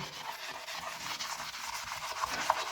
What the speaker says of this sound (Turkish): Ufak bir ovalamayla boya çıkıyor.